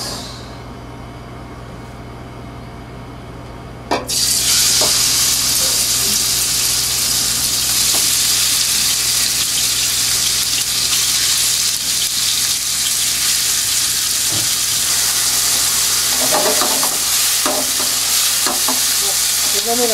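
Curry ingredients fry in rice oil in a pan, a loud steady sizzle that bursts in after a quiet start and then holds, with occasional stirring clinks and scrapes.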